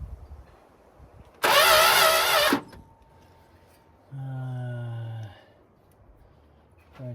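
An old barn-find car engine with no spark cranks over without starting: a loud whirring crank of about a second, a pause, then a second, lower cranking burst with a rising tone. It is heard alone.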